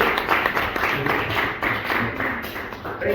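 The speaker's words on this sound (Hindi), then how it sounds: "फाइटोविज के लिए जबरदस्त तालियां होना चाहिए।" Audience applause at a stage show in Azad Rang Manch, Kala Bhawan, Phagwara: a dense, steady wash of many hands clapping at close range, sustained throughout without a break.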